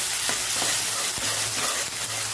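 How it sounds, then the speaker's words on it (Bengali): Chopped onion and raw tomato with salt fry in hot oil, giving a constant loud sizzle and crackle close up, broken by a few soft scrapes of stirring. "তেলের উপরে এবার দুটো কাঁচা টমেটো কুচি, লবণ, ভালো করে পেঁয়াজ টমেটোটা ভেজে নেবো।"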